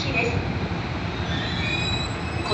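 Sobu Rapid Line train at Soga station platform, a steady loud rumble of rolling stock with faint squealing wheels and rail noise continuing throughout, with no pauses or distinct individual impacts.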